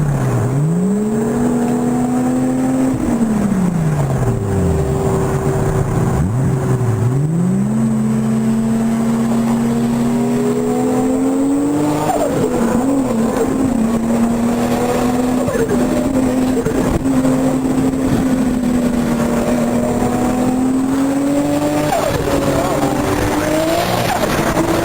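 Two Lamborghini Murcielago sports cars roar past, engines revving up and down in long loud sweeps with tire squeal, while people talk excitedly nearby throughout.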